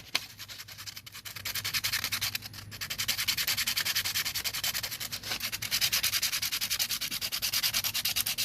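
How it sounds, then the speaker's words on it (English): Steady, rapid back-and-forth scratching of sandpaper rounding the edges of small wooden scale ladder pieces, continuous, close and moderately quiet, with no talking. "Now once you got everything sanded off,"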